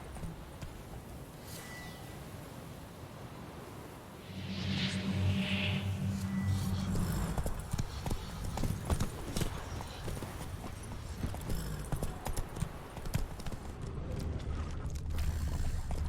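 Hooves of Roach, a horse in The Witcher 3 video game, clop in a steady galloping rhythm that grows louder and busier partway through, with a low game music bed and mechanical clatter underneath.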